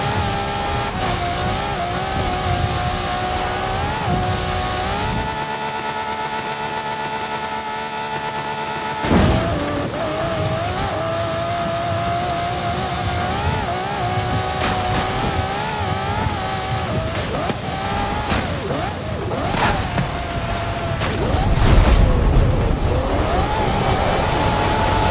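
A Hoonigan Focus RS RX rally car in a video game, its engine droning and revving continuously at high pitch, rising and falling with gear changes, plus occasional thumps and tire noise.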